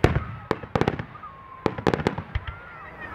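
Big fireworks bursting in a rapid series of sharp, loud bangs, some clustered in quick volleys with crackling tails between them, with faint voices in the background.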